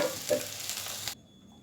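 Lote fish fries in a pan with a soft, steady sizzle and a faint scrape before it cuts off abruptly.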